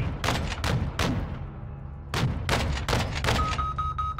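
Rapid booming artillery blasts in a Call of Duty close air support mission on PS5, landing as a fast cluster of heavy impacts, then a brief lull and a second dense volley with rumbling tails.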